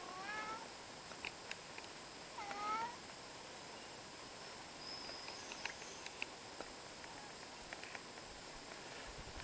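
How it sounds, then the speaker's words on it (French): Cats meowing in a forest garden, a few faint, short meows early on over a quiet outdoor background with soft scattered ticks. "avec les chats."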